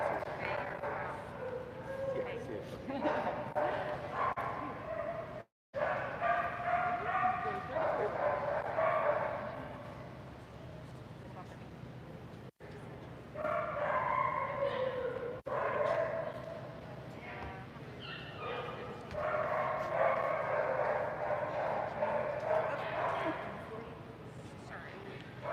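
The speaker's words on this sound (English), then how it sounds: "These dogs are so sweet." Beagle dogs bark, yip and whimper in a cluster, several voices overlapping in bursts that rise and fall across the scene while a person talks over them.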